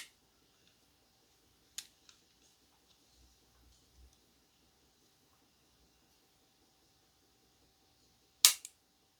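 An EKA Normark Big Swede folding knife snaps open, a faint click early on followed by a few tiny ticks and a sharp, loud metallic lock-up snap near the end, set against near silence.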